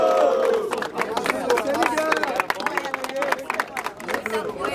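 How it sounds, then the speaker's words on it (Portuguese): Loud crowd at a rap battle (Batalha do Coliseu) roaring and shouting continuously, with bursts of clapping and whoops throughout. "Barulho só pra quem achou que foi Gabi Flow"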